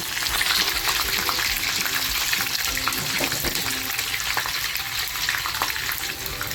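A green chili sizzles as it drops into hot oil in a pan heated for frying small fish, giving a loud, steady crackling hiss with fine spattering pops and no talk.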